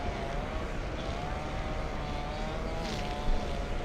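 A United Boeing 787-9 Dreamliner from Newark on final approach to LAX makes a continuous, moderately loud broadband jet rumble with a faint whine, steady throughout with no voices.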